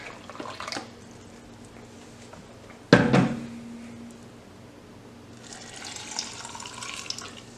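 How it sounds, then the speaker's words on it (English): Tap water runs briefly into a measuring cup for about a cup of water for an MRE-style ration soup, a short burst of flowing water in a quiet kitchen, followed by faint rustling and trickling. "Now it says to add only about a cup of water. So I'm going to measure that out really quick."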